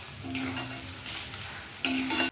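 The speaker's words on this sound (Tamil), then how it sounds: "இந்த எண்ணெயோட சூடுக்கு இதெல்லாம் வறுபட்டுடும்" Curry leaves and asafoetida frying in hot oil after the stove is switched off crackle and sizzle steadily, with a sharper burst of spitting near the end.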